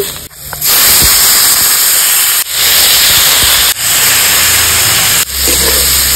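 Leftover rice fried in a pan with chopped green chili, salt and turmeric gives a loud, close sizzling hiss that cuts off briefly every second or so as it is stirred, then surges back.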